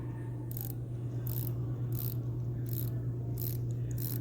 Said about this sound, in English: Now I'm just checking the bezel action